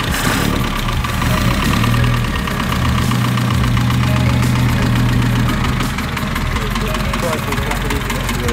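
A 1939 Morgan 4/4 Le Mans engine, fed by an SU carburetor, runs steadily after starting, a loud close idle with a rough, knocking mechanical beat throughout.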